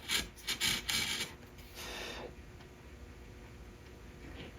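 A hand carving tool cutting V grooves into wood for drawer blades, heard as a quick run of short rasping strokes followed by a steadier, fainter scrape, close and quiet.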